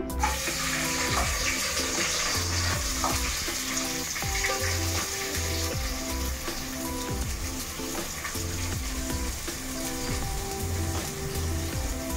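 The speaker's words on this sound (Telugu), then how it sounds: "ఫస్ట్ ఆయిల్ వేసుకున్నానండి, అది కాగాక ఉల్లిపాయలు వేసుకుంటున్నాను।" Onions frying in hot oil for a bagara rice and chicken curry, a steady, close broadband sizzle with clattering, rhythmic spatula scrapes running throughout, and no voices.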